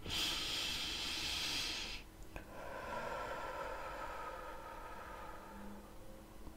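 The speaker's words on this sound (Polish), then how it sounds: "Rób wdech nosem i długi, głośny wydech ustami." During a meditation, a person lets out a long, loud breath through the mouth, a strong airy hiss lasting about two seconds before fading into quieter, softer breathing, with no talking.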